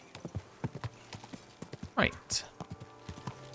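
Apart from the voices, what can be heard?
horse hooves clip-clopping while riding, from video game Kingdom Come: Deliverance II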